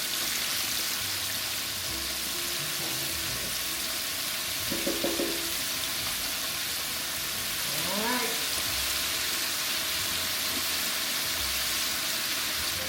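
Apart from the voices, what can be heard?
chicken frying in oil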